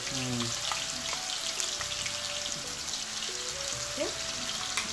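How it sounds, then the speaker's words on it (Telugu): Ginger-garlic paste, about three and a half to four tablespoons, frying in hot oil for a mutton pickle, a steady close sizzle with faint stirring scrapes throughout. "బాగా ఫ్రై చేసుకోవాలి, పచ్చివాసన పోయేంత వరకు దీన్ని మనం ఫ్రై చేసుకోవాలి."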